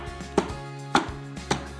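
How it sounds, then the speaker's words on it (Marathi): A tray of cake batter is tapped lightly on a surface, three short, distinct knocks spaced about half a second apart over a low hum. "आता हे छान बॅटर एकसारखं स्प्रेड करून झालं की हे हलकंसं टॅप करायचं"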